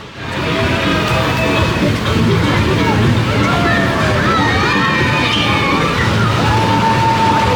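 Water sloshes and splashes steadily around a rapids boat ride at Alton Towers, where waterfalls pour onto the circular boats in a trough, with continuous rushing noise, wind buffeting and faint crowd chatter in the background.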